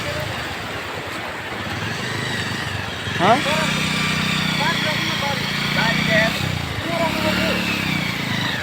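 A motorcycle engine runs near a river crossing around Dharan, a steady close drone that rises as the throttle is opened partway through, with people talking over it.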